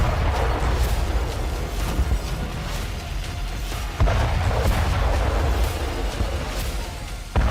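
A TOS-1A multiple rocket launcher fires in a rolling series of heavy booms and blasts, loud and continuous with sharp bursts at intervals.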